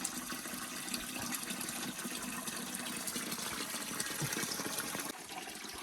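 Spring water pouring from a roadside source on the road to Taroudant, a steady close gushing splash that runs continuously, with no voices.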